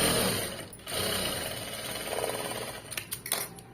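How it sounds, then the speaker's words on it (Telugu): Sewing machine running a top stitch along a fabric border, close and loud, with a fast steady mechanical chatter that halts briefly, resumes, then ends in a few short bursts and clicks. "ఒక టాప్ స్టిచ్ వేస్తాను"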